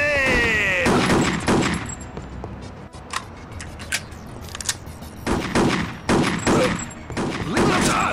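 Pistol fire in the shooter game Chaser comes as loud, close shots in clustered bursts over a dense game soundscape. A faint descending electronic tone opens the sequence, and no voice is heard.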